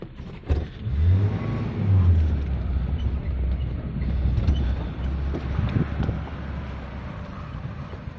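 A Maruti Gypsy 4x4 jeep drives along a rough jungle safari track in Corbett Tiger Reserve, its engine rumbling steadily and rising in brief revving surges, with wind buffeting the microphone throughout.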